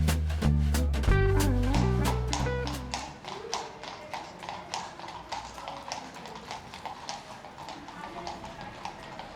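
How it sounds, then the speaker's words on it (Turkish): Horses' hooves clip-clop steadily on a street in Nuremberg, a rhythmic series of sharp taps following a loud low-pitched passage at the start, heard at moderate distance amid street ambience. "Atlar inanılmaz asildi."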